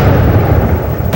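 A loud, sustained deep rumble with heavy low-end boom from an explosion near a presidential stage, continuing steadily with no voices.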